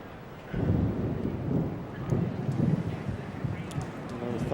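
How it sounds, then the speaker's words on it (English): Thunder rolls during a storm over a 2001 US Open tennis match at Louis Armstrong Stadium, a low, muffled rumble that swells and fades across several seconds with wind noise on the microphone. "Another thunder out there."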